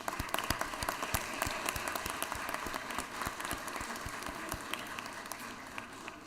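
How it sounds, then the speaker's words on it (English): Applause from a legislative chamber and balcony crowd welcoming Civil Air Patrol visitors, a steady, fairly distant patter of many hands with sharper individual claps, heard alone. "Give them an applause."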